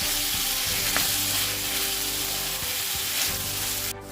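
Tomatoes fry in a pan for paneer butter masala, producing a dense, continuous sizzle close to the mic with a few faint scraping knocks of stirring and a soft tonal hum underneath.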